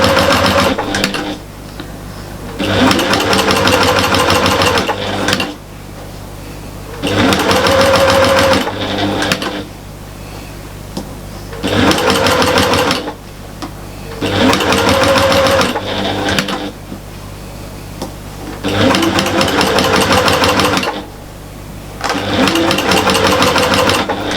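A sewing machine stitching a fabric storage caddy runs in loud, steady whirring bursts of a few seconds each, separated by short quiet pauses, close up and with no talk.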